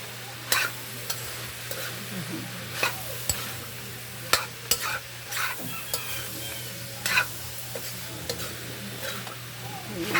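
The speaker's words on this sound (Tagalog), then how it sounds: "I-mix lang natin." Bam-i noodles being stirred and mixed in a frying pan, a steady sizzle with repeated clacks of a utensil against the pan at an uneven pace, close up over a constant low hum.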